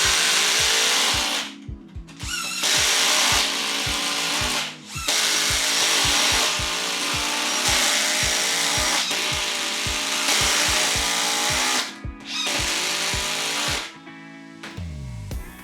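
Ridgid subcompact power tool driving number 10 screws into wood, with loud continuous motor whine in repeated runs, each stopping briefly between screws and finishing with a final slowing bite.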